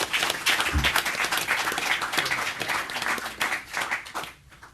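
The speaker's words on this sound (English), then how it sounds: "you guys give everyone else a round of applause" A crowd at the UFC 117 press conference applauds steadily for several seconds, a dense wash of many hands, before tapering off at the end.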